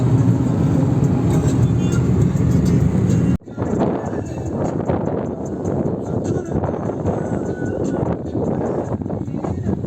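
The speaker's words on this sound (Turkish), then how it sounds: "Ne geliyor arkadan? Tır tır." Heavy road rumble and wind buffeting from inside a moving vehicle on a main road near Ilgaz, Çankırı, with a tır truck closing in from behind, loud and continuous after a brief cut.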